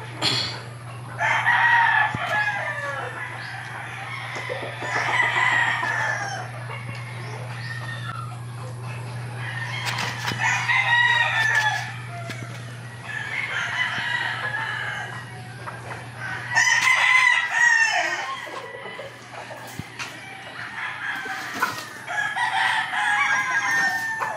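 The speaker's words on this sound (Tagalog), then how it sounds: "ito yung isang pulit natin, Sir Arnel." Roosters crow repeatedly and chickens cluck all around a gamefowl breeding farm, several birds calling in turn at near and middle distance over a steady low hum.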